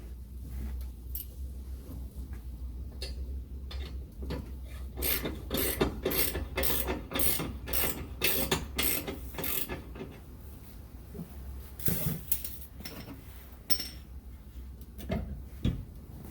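Ratcheting wrench loosening the front bolts of a Body Armor TJ-4121 rock slider on a 2001 Jeep TJ, a run of quick, close mechanical clicks in bursts with pauses and occasional metallic knocks.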